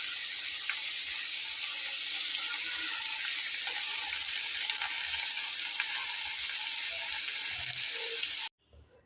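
Second batch of potato snacks frying in hot oil, a loud continuous bright sizzle with small crackles throughout, ending abruptly near the close, with no talk.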